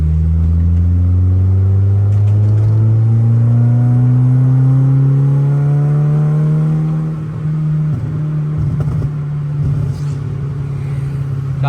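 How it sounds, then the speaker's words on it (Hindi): A tuned car engine revs in third gear, climbing smoothly in pitch for several seconds into a loud, sustained roar before the revs settle back, close and with no talking. "अब तीसरे गियर के अंदर RPM थोड़ा ऊपर लेके जाते हैं।"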